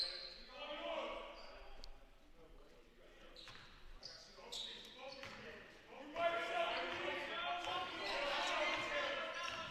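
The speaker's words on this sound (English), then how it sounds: "Dawson dribbles it past half court" A basketball is dribbled on a college men's basketball court during a game, with rhythmic bounces and squeaking shoes heard under steady play-by-play commentary and arena crowd noise.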